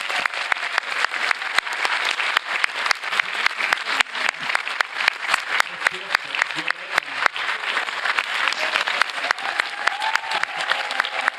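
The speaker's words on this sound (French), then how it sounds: "Nous pourrons donc applaudir tout le monde." An audience at a Vajra Yogini retreat applauds steadily, dense continuous clapping that holds loud and even throughout with no pauses.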